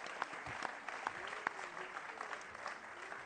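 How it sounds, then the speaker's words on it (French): An audience at a Europe Ecologie - Les Verts political debate applauds two arriving journalists, steady crowd clapping heard from a distance with a few sharper individual claps and a faint voice underneath. "Vous pouvez les applaudir, eux, puisqu'ils arrivent"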